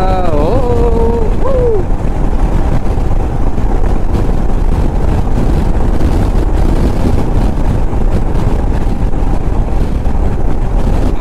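A Royal Enfield Himalayan 411 motorcycle cruises along a highway, its steady engine drone buried under heavy, constant wind rush, with a brief rising tonal whine at the start.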